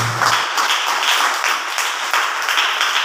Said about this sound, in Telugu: కొట్టాలి చప్పట్లు గట్టికొస్తాను